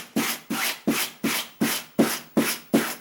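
Rhythmic rasping strokes as fabric is roughened and combed with sandpaper or a wire brush for costume aging, eight even scrapes in steady succession, close and fairly loud.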